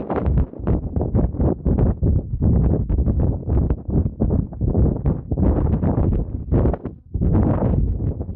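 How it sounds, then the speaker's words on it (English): Strong wind buffets the microphone on a mountain ledge in the Wilson Ridge and Lovell Canyon area of Nevada, loud gusty roaring in irregular pulses that nearly drops out once before surging again. "a lot of wind."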